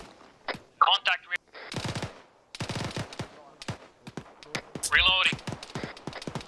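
Video game gunfire: bursts of rapid automatic shots and single cracks spread through the clip, loud and close, with short gaps between volleys.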